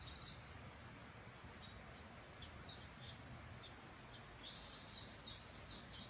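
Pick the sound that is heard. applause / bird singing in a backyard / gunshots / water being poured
bird singing in a backyard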